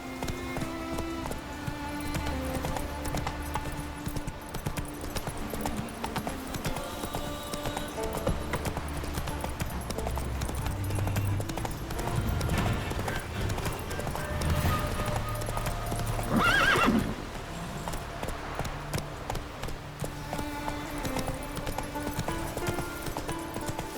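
Roach the horse running in The Witcher 3: Wild Hunt, steady clip-clopping hooves with a neigh, mixed under continuous loud orchestral game music and a brief swell of effects near the end.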